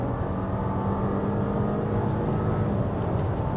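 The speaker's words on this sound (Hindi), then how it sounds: "अभी पीछे लेके आता हूँ इसको M3, ठीक है, मैं एक्सेलरेट करता हूँ, ये होल्ड नहीं करता" An Audi Q7 accelerating in manual M3 gear mode, heard from inside the cabin as a steady, loud engine drone that holds throughout without a break and with no voices.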